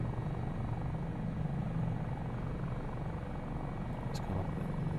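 A Eurocopter Dauphin helicopter in Microsoft Flight Simulator drones with a steady, dense engine and rotor roar that holds constant throughout, alone and without talk.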